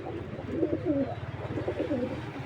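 Male racing pigeons coo softly in repeated rolling, throaty phrases, close by, over a low steady background hum.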